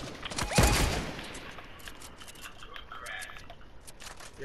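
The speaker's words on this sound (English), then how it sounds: "I'm getting shot at. They missing every shot." Gunfire rings out in a shooter video game, a sharp loud shot followed by scattered fainter pops and clicks over a steady background hiss.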